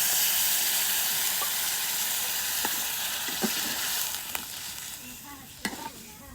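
Rice well fried for a katla fish-head biryani sizzles loudly as half a litre of water goes in, the hiss slowly easing off while a few clinks sound near the end.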